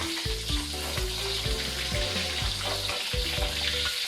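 Steady loud sizzle of snakehead fish frying in a hot pan, with a rhythmic series of low thumps repeating about every half second throughout.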